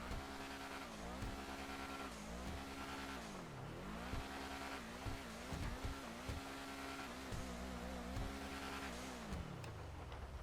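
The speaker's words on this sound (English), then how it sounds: "let's go ahead and do that sound test. Alright, let's rev it up here." A sports car engine in the game GTA Online, an Ocelot Lynx, revs up and down repeatedly, rising and falling pitch sweeps with a growling tone, game-like and continuous, no talking.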